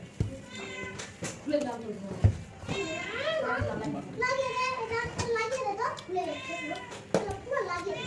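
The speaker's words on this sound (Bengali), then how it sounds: "দেখো টেবিলের তলে বিড়াল" A cat under a table meows repeatedly in drawn-out cries, mixed with children's voices and chatter nearby.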